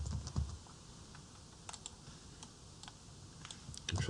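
Computer keyboard typing and key clicks as copy and paste shortcuts are entered, sparse quiet taps in small clusters against a soft background hum, with a low thump at the start and end.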